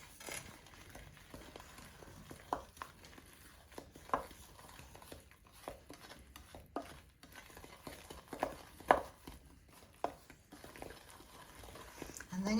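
A spoon works through wartime frugal Christmas cake batter in a bowl with soft, irregular scraping and tapping, quiet and close, with no one speaking.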